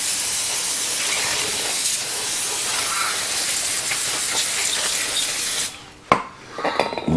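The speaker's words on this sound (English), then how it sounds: "So, brake cleaner," Brake cleaner aerosol sprays onto motorcycle brake parts in a steady, loud, close hiss lasting several seconds, then stops abruptly, leaving a few clanks and light handling noises.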